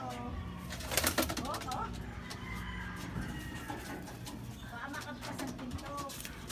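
Pigeons at a flyers loft cooing and clucking close by over steady background noise, with a burst of wing flapping early on.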